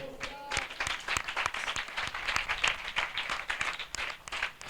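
An audience claps together in a steady burst of applause at a sermon, the sharp, close claps sounding dense at first and thinning out slightly toward the end.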